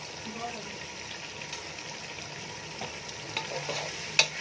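Meat for biryani stir-fries in a pot with a steady, fairly quiet sizzle, occasional stirring knocks and a sharp clink near the end.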